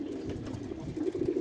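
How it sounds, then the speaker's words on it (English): Low, soft cooing of Bangladeshi Golla pigeons near a rooftop loft, a steady murmuring drone that swells slightly louder toward the end, with no talking. "These pigeons are my friends."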